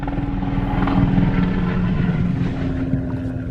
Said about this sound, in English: I got a helicopter flying over me